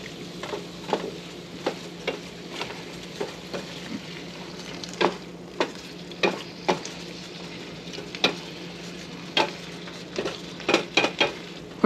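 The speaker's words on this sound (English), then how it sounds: "And now we mix to combine." Paella ingredients with saffron, salt and pepper are stirred in a pan, a low steady sizzle under a string of sharp, irregular spoon clacks and scrapes against the metal, close and alone.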